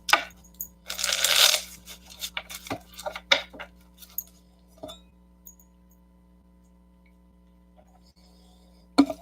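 Playing cards riffle in a quick burst, followed by scattered taps and light clicks as cards are squared and dealt, fairly close and quiet.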